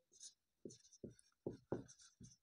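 Chalk tapping and scraping across a classroom board while a maths definition is written, in short rhythmic strokes, close and fairly quiet, with no talk.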